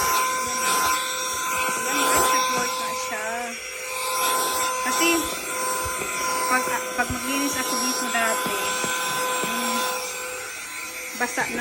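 A small rechargeable handheld vacuum cleaner runs with a continuous high whirring motor hum, close and fairly loud, while a person talks over it.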